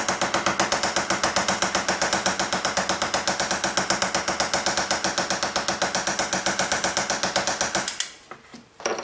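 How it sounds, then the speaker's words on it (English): A Foredom hammer handpiece striking metal held on a steel block gives a rapid, steady machine-gun rattle of close, even taps for about eight seconds, then stops abruptly, leaving a few faint knocks. "I'm making good contact between my hammer handpiece, the metal, and the steel block that I'm hammering on"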